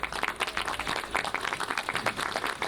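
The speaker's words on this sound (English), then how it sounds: "So again, let's give a nice round of applause." An outdoor crowd at an Arbor Day ceremony gives a round of applause, with moderately faint, brisk clapping that stays even and somewhat distant.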